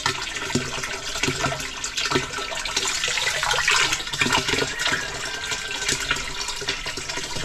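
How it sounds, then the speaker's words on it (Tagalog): A strong, steady rush of water pours out for watering plants on a farm, a continuous splashing hiss with small gurgling bursts throughout. "At ito yung ating agas ng tubig, oh. Akusog pala eh."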